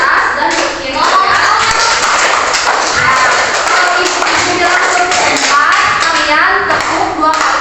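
A classroom of children claps hands in a patterned rhythm, with bursts of clapping mixed among their chattering voices and shuffling in a busy, lively room.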